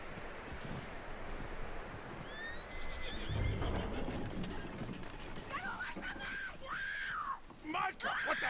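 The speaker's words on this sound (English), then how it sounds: "That looks like a decent horse." A horse in Red Dead Redemption gives a couple of high whinnies over wind and outdoor noise, with voices talking nearby.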